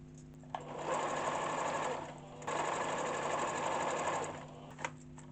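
A sewing machine stitches fabric for a handmade stole in two sustained runs of rapid, even needle chatter with a brief pause between, close but fairly quiet, with small clicks at the stops.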